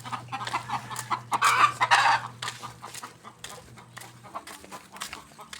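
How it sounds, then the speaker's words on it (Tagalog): Chickens clucking close by in a rural village, a busy run of short clucks that peaks in the middle and then settles into scattered, quieter clucks. "Ayan, manok."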